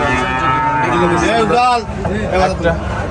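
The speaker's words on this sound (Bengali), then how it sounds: "এটা একটা মুন্ডি কোয়ালিটি গরু ভাই" A Mundi-breed cow moos loudly and close by at a busy cattle market, a drawn-out call with a second lowing bellow, while people talk nearby.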